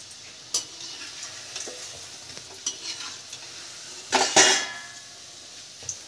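Egg and bread pakoras frying in hot oil, with a low steady sizzle broken by sharp clinks and scrapes of a utensil, including a louder cluster of stirring knocks near the end.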